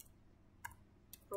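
A few soft, sparse clicks of computer keyboard keys being typed while entering a network gateway address, quiet and close, spaced irregularly over a near-silent background.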